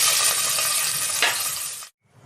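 Loud, steady crackling sizzle of mustard seeds popping in hot oil, continuous for nearly two seconds before cutting off abruptly.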